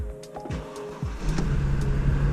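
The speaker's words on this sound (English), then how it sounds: "Car turns on." A 2009 Mercedes-Benz C350 with a coolant temperature sensor fault cranks briefly and catches, then settles into a steady close idle.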